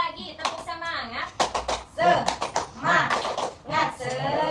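A class of schoolchildren chants and claps together in a spirited rhythmic clapping routine, with quick hand claps mixed among their shouted voices.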